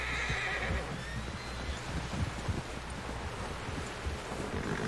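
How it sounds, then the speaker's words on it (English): A horse in the Red Dead Redemption 2 video game whinnies once at the start, then hooves clip-clop at an uneven pace over a windy outdoor background. "Someone help John down off this horse"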